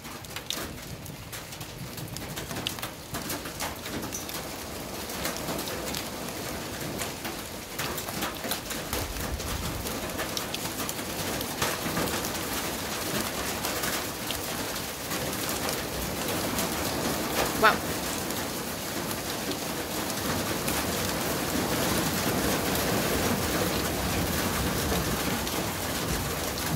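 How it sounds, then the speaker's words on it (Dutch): Steady, dense patter of rain drumming on a roof, continuous and even throughout, with occasional faint bird calls in the background. "Dit is de geluid van de regen op mijn dak."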